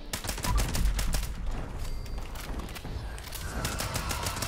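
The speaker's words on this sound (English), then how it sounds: "we'll just use the normal automatic combat rifle and the normal fixer for this fight" Rapid automatic combat rifle fire in Fallout 76, a dense, steady stream of close, loud shots running through the whole stretch, with a few heavier bursts near the start.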